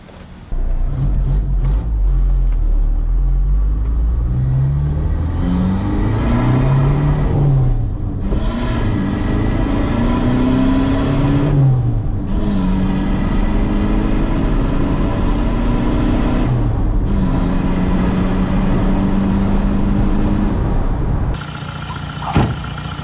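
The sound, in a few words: TDI diesel pickup engine revving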